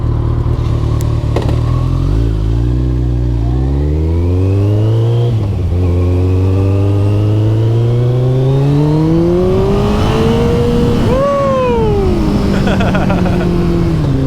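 Kawasaki ZZR motorcycle ridden along country roads, its engine loud and close as it accelerates through the gears in rising sweeps, then revs up and backs off near the end.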